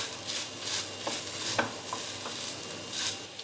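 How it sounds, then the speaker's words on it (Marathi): Paneer is stirred and mashed in ghee over low heat for sweet pedha, soft scraping strokes of a spatula in a pan with a faint sizzle, quiet and close, with a few light taps. "तुपावर आपण पनीर छान असं परतून घेणार आहोत. पनीरला असं मॅश करत राहायचं आहे."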